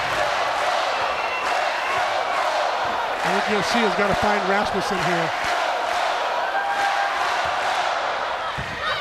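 A standing crowd at a Hawaii Rainbow Wahine college volleyball match against San Diego roars steadily and loudly throughout, with a commentator talking over the noise.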